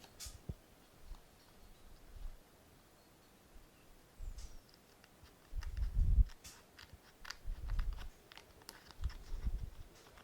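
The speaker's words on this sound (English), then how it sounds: "Cut right down the middle to go into those two pockets." Several soft snips of small fine craft scissors cutting paper down the middle, in irregular bursts, close and quiet.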